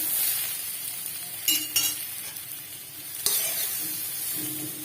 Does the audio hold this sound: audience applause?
no